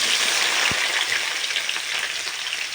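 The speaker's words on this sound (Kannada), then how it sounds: "ಸ್ವಲ್ಪ ಕ್ಯಾಪ್ಸಿಕಮ್ನ ಫ್ರೈ ಮಾಡ್ಕೊಳ್ಬೇಕು" Red capsicum frying in oil in a pan hisses with a continuous close sizzle, one soft knock early on, and no talking.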